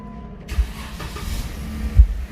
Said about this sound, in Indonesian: mari kita coba start up untuk Jeep Sahara ini.